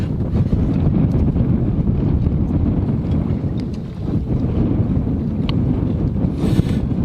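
Strong wind buffets the microphone continuously aboard a sailboat, a dense low roar with gusty fluctuations and no pauses throughout.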